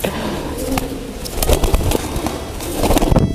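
Crossbred racing pigeons of the Rampok and Kenwood lines make close, busy sounds, with soft calls amid sharp clattering flutters and knocks, fairly loud and with no speech.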